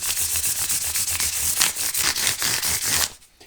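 Stainless steel guitar frets are rubbed with 1000 grit wet and dry paper, a close, rhythmic back-and-forth scrubbing of about five strokes per second that stops abruptly near the end, with no talking.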